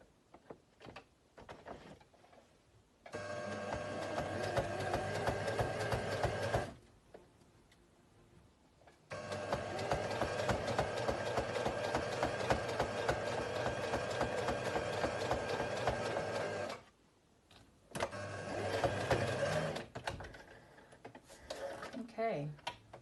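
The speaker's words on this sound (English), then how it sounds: "My sewing machine really is having trouble." A struggling sewing machine runs in several bursts of rapid, steady stitching separated by short pauses, fairly loud and close, with faint clicks between runs.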